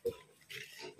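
Roughly two-month-old piglets give a short, soft grunt and then a brief rustling snuffle, faint and close, with nothing else around them.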